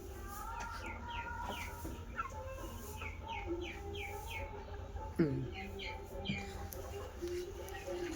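Month-old poultry chicks on a farm chirp in quick repeated peeps, rising and falling in small bursts over a low hum, with a voice talking nearby throughout.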